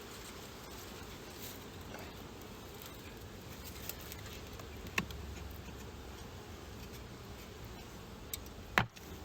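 Faint, continuous buzzing of many honey bees in a low hum from a hive box holding tens of thousands of bees, with occasional soft clicks and taps close by.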